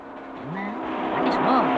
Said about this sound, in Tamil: ஏய் பெரிய வண்டியா வருது